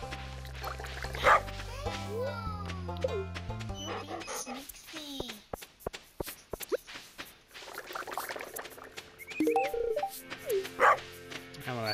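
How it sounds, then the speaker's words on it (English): A dog in the video game Stardew Valley barks and whimpers several times in short bursts, with clicks, tones and other busy background sounds between. "I hear him barking."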